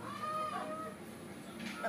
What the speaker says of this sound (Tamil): சம சேவல பாருங்க, பெரிய சேவை நிக்குது